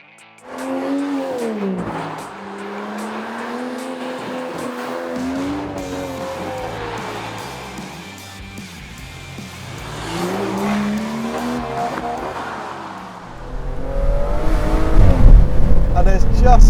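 Aston Martin Vanquish pulling hard along a winding road near Crown Point in Oregon, loud engine rising and falling in pitch through gear changes, with a sharp roar building at the end.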